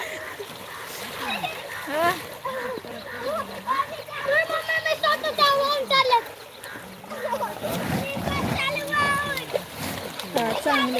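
People splash about in water in short bursts, while adults and children talk and call out loudly over the splashing.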